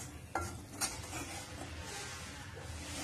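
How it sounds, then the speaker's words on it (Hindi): Whole wheat flour roasts in ghee over a low flame, heard as a faint, quiet sizzle with a couple of light utensil clinks and soft stirring near the start. "इसको हम लो फ्लेम पे अच्छे से भूनेंगे"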